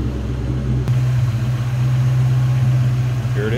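A 2003 Ford Mustang Cobra convertible's Terminator engine idles smoothly with the hood open, a steady low hum that carries loud and close throughout.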